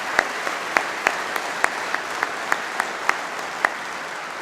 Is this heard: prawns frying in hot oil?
no